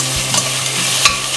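Two medium chopped onions sauté in a hot pan, a steady broadband sizzle with brief stirring scrapes, close and continuous with no talking.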